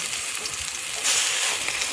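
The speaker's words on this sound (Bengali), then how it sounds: "তেল দিয়ে দেবো কড়াতে, হালকা গরমে বন্ধুরা পাতুরি দেবে" Rui fish paturi, fish wrapped in leaf, frying in oil in a wok, giving a steady, close, dense sizzle that swells slightly midway, with no talking.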